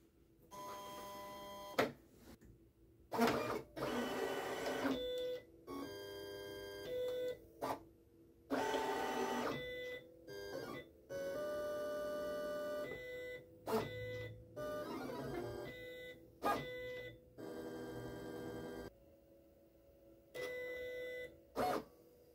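A Silhouette Cameo 5 cutting machine with a rotary blade in carriage 2 whirs and buzzes in stop-start bursts as the carriage moves. Its motor tones shift in pitch over repeated short and longer runs, heard close with no talk.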